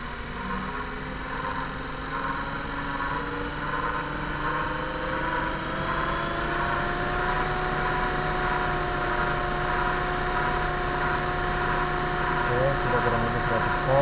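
A DC motor runs at 100 volts with a steady whine whose pitch rises slowly after switch-on and then holds, set against a constant broadband hum throughout the clip.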